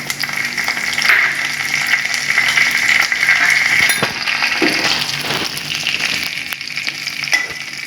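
Mustard seeds, urad dal, crushed garlic and curry leaves sizzle steadily in hot oil in a pan, with a continuous crackling hiss and occasional metallic clinks of stirring.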